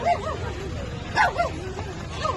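A boy in Mirzapur, bitten by a dog months earlier, imitates a dog with his voice, letting out rapid yelping barks and whimpering whines over background crowd chatter.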